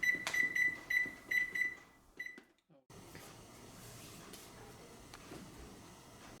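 A household oven timer beeps in a quick series of short, bright electronic tones, then falls silent, followed by steady kitchen room noise.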